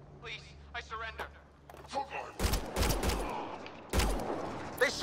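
Several sharp gunshots in the sci-fi game Mass Effect Andromeda come as loud, abrupt bursts with brief rapid volleys, preceded by a strained, pleading voice and heard alongside speech.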